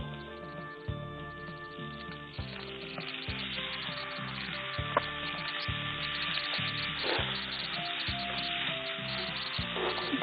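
Tomatoes fry in a pan for a Tamil egg curry, giving a steady, close sizzle with soft scraping and stirring knocks throughout, and no voices.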